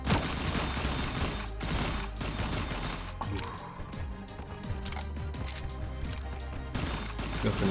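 Rapid M16 rifle bursts in the mobile battle royale game Sausage Man, dense overlapping shots crackling continuously at close range, with no voices.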